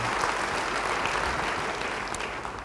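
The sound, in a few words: congregation applause in church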